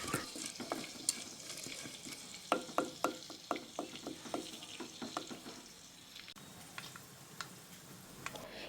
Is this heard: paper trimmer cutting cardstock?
no